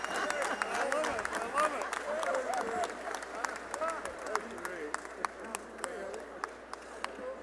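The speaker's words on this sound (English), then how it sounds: "Let's give him another round of applause." An audience at an NAACP annual dinner claps steadily, a sustained, moderately distant round of applause with scattered sharper claps standing out near the end, and voices murmur underneath.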